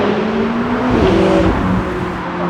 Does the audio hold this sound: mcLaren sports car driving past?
yes